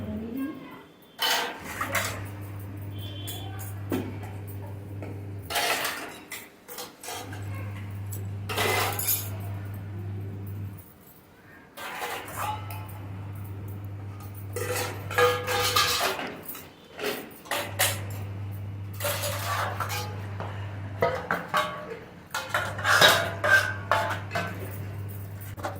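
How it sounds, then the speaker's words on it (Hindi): Dishes, pots and utensils are washed in a village kitchen: metallic clinks, scrapes and clattering of utensils come in bursts, with a steady low hum underneath and gaps of quieter sound between. "तो इसलिए पहले मैं बर्तन और चूल्हे वगैरह साफ़ करूंगी"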